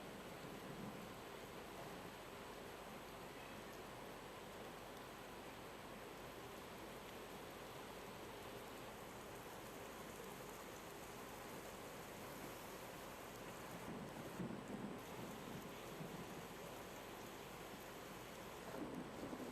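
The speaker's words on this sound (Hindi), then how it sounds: "काले बादल गरज के साथ झमाझम बारिश हुई।" Heavy rain pours in a continuous, even hiss during a thunderstorm, with a low rumble of thunder swelling briefly near the end. The whole scene is heard from a distance, faint and without voices.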